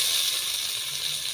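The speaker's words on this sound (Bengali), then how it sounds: "তো মা এখন দিয়ে দিচ্ছে তেলের মধ্যে পেঁয়াজ কুচি" Chopped onion sizzles in a small amount of hot oil while a chicken giblet dish cooks, a soft, even hiss that holds steady and fairly quiet through the brief moment.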